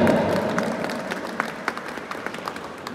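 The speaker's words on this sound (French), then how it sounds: "pour l'applaudir très très fort" Applause at a university law and economics faculty graduation in Cap-Haïtien for the class sponsor, moderate clapping that thins into scattered individual claps.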